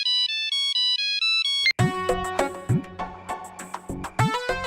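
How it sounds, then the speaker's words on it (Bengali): A mobile phone ringtone loops a bright repeating melody alone for under two seconds, then gives way to loud dramatic background music. "আমার মোবাইলের রিংটোন।"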